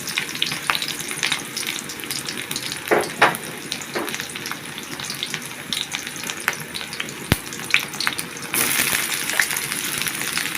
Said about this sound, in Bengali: আমি এখন তেল দিয়ে নিলাম। পেঁয়াজ কুচি দিয়ে দিলাম।